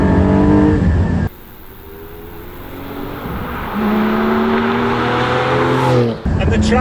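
A Porsche 718 Spyder engine revs hard out of a corner, loud rising tones climbing through the gears with a brief lift between shifts, heard close from inside the car.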